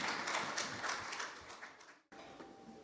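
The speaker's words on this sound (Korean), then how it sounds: "환영의 박수 부탁드리겠습니다." Steady audience applause greets panelists at a National Assembly policy forum. Dense, fairly faint clapping cuts off abruptly near the end, then a quieter patch of room sound follows.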